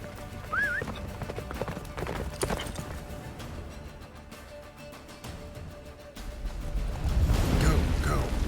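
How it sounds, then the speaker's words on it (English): Roach the horse gallops in The Witcher 3, with rhythmic hoofbeats under wind, game music and effects, plus a short whinny early on and a surge of louder rumbling near the end. "Faster, Roach. Don't stop!"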